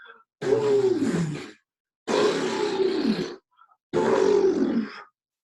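A person imitates an elephant by forcefully blowing air out, giving three long, breathy, trumpeting roars with a falling pitch, each about a second long, separated by short pauses and close to the listener.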